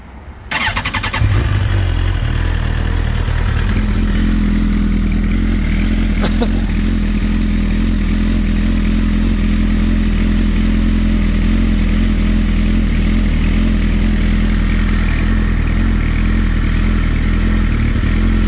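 Suzuki GSXR 1000 motorcycle cranks and fires cold, then settles into a loud, steady, close idle that holds unbroken throughout.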